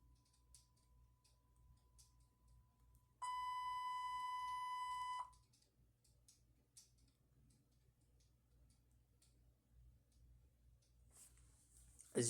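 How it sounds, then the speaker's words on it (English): A new mobile phone gives a loud, steady electronic beep lasting about two seconds, preceded by a faint thin tone and followed by quiet room noise. "That was my phone."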